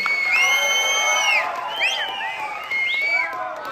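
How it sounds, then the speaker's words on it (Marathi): Live audience at a Marathi stage comedy show in Satara cheering loudly for a performer named Madhukar, with shrill whoops and shouts rising over a crowd roar that swells and dips in waves. "जोरदार टाळ्या मधुकर साठी झाला पाहिजे"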